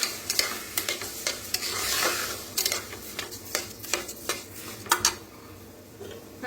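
Moong dal being stirred and roasted in a pan, with soft sizzling and repeated sharp scrapes and clinks of a spoon against the metal, close and fairly quiet, with no talking.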